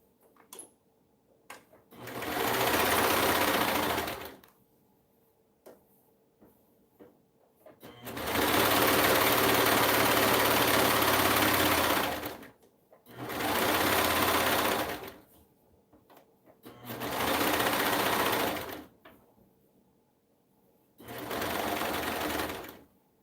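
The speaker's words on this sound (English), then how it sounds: "what they would do is come over here and serge straight down this side" A serger sewing machine stitches fabric in five loud, close bursts of fast whirring, each lasting a few seconds, with quiet pauses and small handling clicks between runs.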